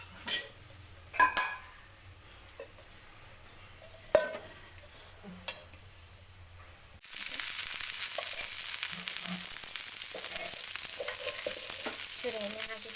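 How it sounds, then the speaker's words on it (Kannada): Okra frying in a pan, quiet clinks and a few sharp knocks at first, then a dense steady sizzle with faint stirring scrapes taking over for the second half, close and without talk. "ಬೆಂಡೆಕಾಯನ್ನು ಫ್ರೈ ಮಾಡಿ"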